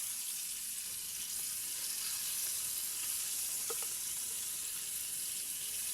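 Homemade chicken frying in hot oil gives a steady, bright, hissing sizzle that runs unbroken throughout, close and fairly loud with no talk.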